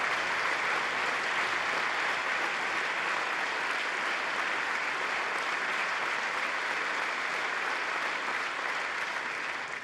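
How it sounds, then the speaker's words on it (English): Members of the US Congress applaud at length in a large chamber, a dense, even wash of many hands clapping that holds steady throughout with no voices on top. "Why are they clapping for any of this?"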